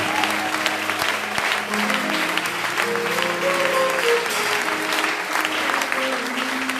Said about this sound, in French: je veux que tu acclames très fort le Seigneur